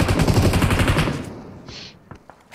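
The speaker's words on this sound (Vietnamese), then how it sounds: "Nó bắn kinh quá" Rapid automatic gunfire from PUBG Mobile, a dense burst of loud repeated shots that stops after about a second, followed by a few scattered, fainter clicks and shots.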